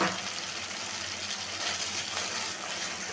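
Spice paste with mango pulp and a splash of water sizzles steadily in a pan for egg curry, a continuous broadband hiss with faint stirring, no talk.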